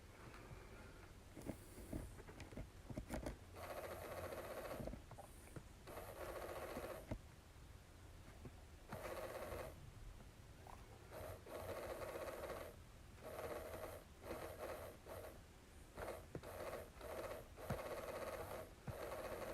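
A small motor on a Floid robot whirs and grinds as it rotates, with a continuous buzzing hum that cuts in and out in short bursts over about twenty seconds, close and fairly faint.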